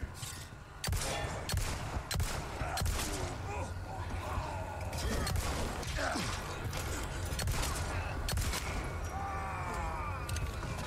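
Gunfire during a farm fight in the Resident Evil 4 Remake, repeated sharp shots and weapon handling noises spread across a busy game soundscape, with voices talking underneath.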